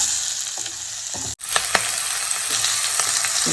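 Chopped onions frying in oil with fenugreek and fennel seeds make a steady, close sizzle with scattered small crackles and a few stirring scrapes, broken once by a very brief dropout.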